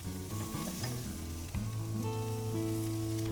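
Steak skewers laid on a grill heated to high, giving a steady, dense sizzle with a faint hum underneath, close and continuous throughout.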